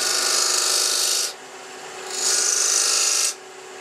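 A Robert Sorby stiletto embossing tool cuts into spinning wood on a lathe, making a loud, steady, close rasping whine in two long passes separated by a short quieter gap.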